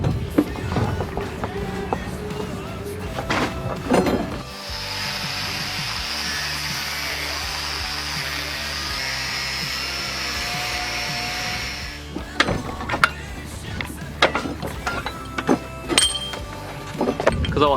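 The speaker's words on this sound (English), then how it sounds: "put it in my vise, cut it out on one, and I know that I've got the identical copy on the other side as well" Power cutting through two stacked steel pieces clamped in a vise, a steady grinding hiss held for about seven seconds between bursts of louder workshop clatter and tool handling.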